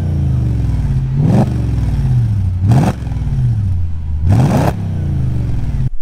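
An Audi S4 4.2 V8 engine revs hard three times, each sharp surge climbing and dropping back to a rumbling idle, loud and close.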